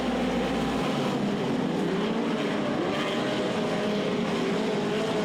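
Midget race cars roar around a dirt track in a dense, continuous engine drone with shifting pitch as cars pass, heard at a distance without talk.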